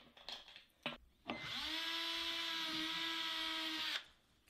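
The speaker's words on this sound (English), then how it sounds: "drill some more pilot holes and screw it into place" A power drill boring pilot holes for a latch on a wooden kitchen storage box for a minivan camper, with a few short clicks and bursts before one steady, loud whine of about three seconds that cuts off sharply.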